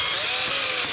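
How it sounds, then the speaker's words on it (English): A power drill whirs steadily and loudly as it bores holes into wood while a motorized Venom symbiote prop is being built, a close, continuous grinding hum with no voices. "Got my drill. Gonna drill some holes."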